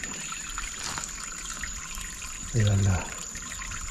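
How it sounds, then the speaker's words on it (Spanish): A small outdoor stream of water trickles in a steady, soft hiss, with one short word spoken briefly near the end. "la corrientita de ahí"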